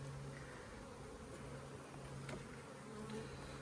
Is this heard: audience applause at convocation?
no